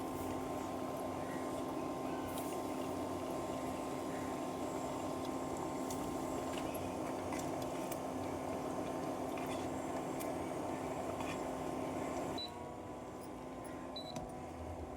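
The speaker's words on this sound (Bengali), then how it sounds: "তেলের মধ্যে এক এক করে নাস্তাগুলা দিয়ে ভেজে নেব আমি" Egg and flour snack dough frying in hot oil gives a steady, close bubbling sizzle with small pops that runs throughout and eases slightly near the end.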